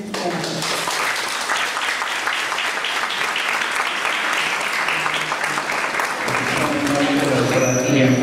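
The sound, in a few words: audience applause after a conference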